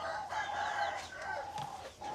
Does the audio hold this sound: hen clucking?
yes